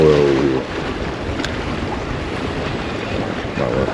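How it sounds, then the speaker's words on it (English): Steady coastal wind buffets the microphone while fishing for sheepshead by the water, a continuous loud rushing roar with a brief low rumble at the start. "A little windy today."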